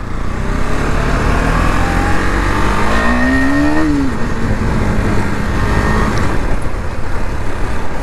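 A KTM Duke 250 motorcycle, recently serviced and rated at 30 BHP, drones loudly while being ridden, its engine note rising in a rev around the middle under steady heavy wind rush.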